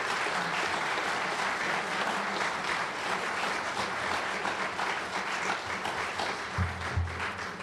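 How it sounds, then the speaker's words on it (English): An audience at a 2017 candidate forum applauds two candidates, giving steady, dense clapping that fills the room evenly and continuously throughout, moderately loud and without speech. "will you give a round of applause to Sin Brochure and Kenny Rogers?"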